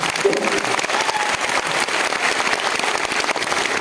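A hall audience at a 2023 event in Malda claps continuously, a thick, even wash of many hands that stays loud and unbroken for several seconds.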